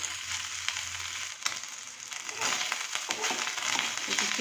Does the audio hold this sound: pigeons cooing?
no